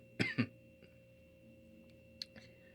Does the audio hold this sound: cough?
yes